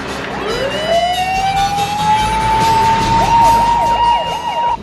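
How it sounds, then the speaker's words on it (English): A police car siren winds up from low to a loud sustained wail, then breaks into rapid rising yelps over the rumble of an engine. "I think you better hit the siren bell"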